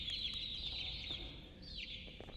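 Small pila birds in the horror game Garten of Banban 2 cluck and chirp in a quick, close flurry of bright, squeaky calls over a low background rumble, with no talking.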